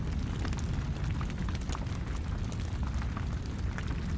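Flames roar inside a blazing furnace as a steady, dense, rushing wash of sound, fairly quiet and unbroken, with no voices.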